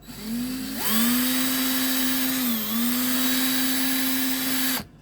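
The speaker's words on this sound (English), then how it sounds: "what I'm going to do now is just drill out these rivets" A power drill with a 6mm bit whines steadily at high speed for several seconds while drilling out rivets on a Corgi Batmobile toy, its pitch dipping briefly under load before spinning down abruptly.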